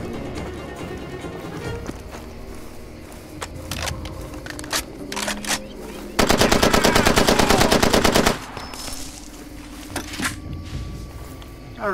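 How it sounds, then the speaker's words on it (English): An AK rifle fires in the video game Far Cry 2, with scattered single shots and short bursts, then a sustained rapid burst of about two seconds, mixed with other game sounds and faint voices. "A regular AK."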